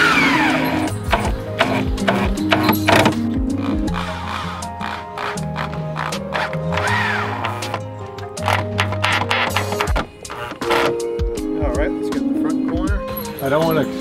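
Screws are driven into hardwood pallet boards, the drill whirring in repeated short bursts with mechanical clicks, close and loud, while a person talks over it.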